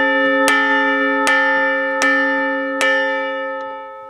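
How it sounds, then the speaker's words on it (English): A large bell in a ghost village is struck four times at a steady pace, each clang ringing loud and close with a long humming sustain that overlaps the next strike. "Let me hit the bell."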